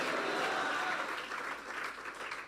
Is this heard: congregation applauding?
yes